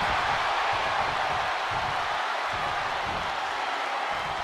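A dense, steady roar of a large crowd in the wrestling video game WWE 2K22, loud and continuous throughout with no single voice standing out.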